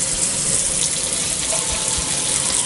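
Tap water runs steadily into a kitchen sink while a pizza cutter is wiped down, making a close, loud, continuous splashing rush with no speech.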